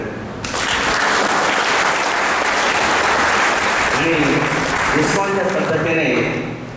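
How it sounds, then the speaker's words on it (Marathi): A crowd at a seventy-fifth birthday felicitation ceremony in Sangamner bursts into loud, sustained applause honoring Namdev Dadabhau Gadekar, dense clapping filling the whole stretch before thinning near the end as voices rise over it. "आपण एकदा नामदेव दादाभाऊ गाडेकर यांचं जल्लोष टाळ्या वाजवून करूया"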